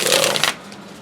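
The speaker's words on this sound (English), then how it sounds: "I feel like I want to do one more shuffle" A quick riffle of a deck of cards being shuffled, a dense flutter of close clicks lasting half a second before stopping.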